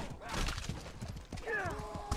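Horse sounds in the medieval combat game Mordhau, with rapid clip-clop hoofbeats and a brief whinny-like tonal cry amid loud battle noise and a voice.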